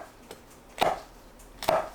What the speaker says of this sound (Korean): 청양고추에 칼집 넣어 준비합니다.